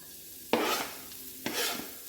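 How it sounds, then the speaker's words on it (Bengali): Finely chopped onions drop into hot oil and sizzle loudly. Two sharp bursts of crackling frying rise and then ease back to a steady hiss. "তেলটা গরম হয়ে গেছে এবার এর মধ্যে পেঁয়াজ একদম মিহি করে কুচিয়ে রেখেছিলাম সেটা দিয়ে দিলাম"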